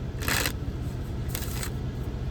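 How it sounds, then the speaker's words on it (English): Tarot cards shuffled by hand in two brief riffling bursts, crisp papery flutters over a steady low hum, fairly close and without talk. "so I'm gonna shuffle again"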